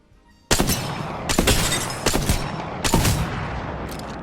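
Sniper rifle shots in a video game, fired with no recoil: four sharp, loud reports spaced roughly evenly about three-quarters of a second apart, each ringing into a rumbling tail, with nobody talking.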